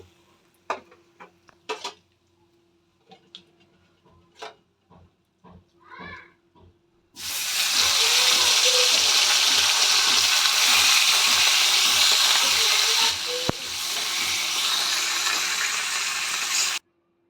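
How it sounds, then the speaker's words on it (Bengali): Rohu fish pieces frying in hot oil burst into a loud, steady sizzle after several scattered clinks and taps, and the hiss holds strong until the end. "বাকি মাছগুলো আমি এইভাবেই ভেজে নেব।"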